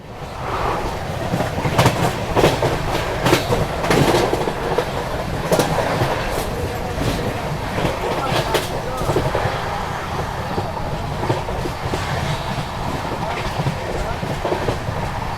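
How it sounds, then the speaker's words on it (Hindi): Sasaram–Dhanbad Intercity Express passing on Indian railway: loud continuous rumble with rhythmic clickety-clack of wheels over rail joints and wind buffeting, close and sustained throughout. "सामने से आएगी आपकी सासाराम धनबाद इंटरसिटी एक्सप्रेस।"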